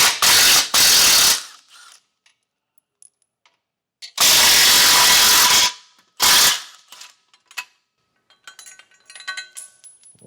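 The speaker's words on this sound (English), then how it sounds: "We'll remove our tow hooks. There's another 2 15mm bolts." A hand ratchet loosens 15mm tow hook bolts in a few loud bursts of rapid clicking, separated by pauses with light metallic clinks close by.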